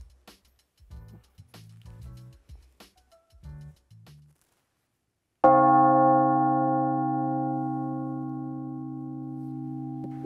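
A large church bell of Sacré-Cœur church in Montreal strikes once, loud and resonant, its deep hum ringing out and slowly fading after a stretch of faint chirping sounds.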